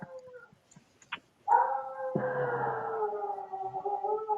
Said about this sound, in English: the dog's going nuts now